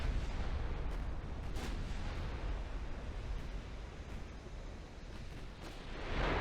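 Heavy naval gunfire from warships in the Ultimate Admiral Dreadnoughts naval battle game, a continuous rumbling roar of distant cannon blasts and booms rolling together with no pause, fairly loud throughout.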